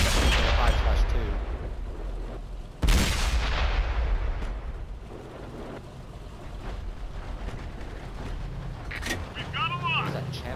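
Tank cannon fire in World of Tanks, a sharp loud blast near the start and a heavier close shot a few seconds later, over a rumbling engine and battle noise, with players talking throughout.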